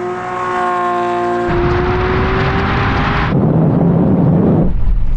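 A Tesla Model X Plaid, a Ferrari SF90 and a Lamborghini SVJ launch together in a half-mile drag race, a loud rising engine roar climbing through gear changes, steady and close with no talk.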